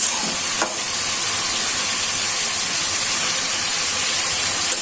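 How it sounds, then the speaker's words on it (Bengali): Bitter leafy greens (helencha) fry in a pan with a steady, loud sizzle and hiss that continues throughout, with a brief clink near the start. "শাকটা এখন ভাজা হয়ে যায়"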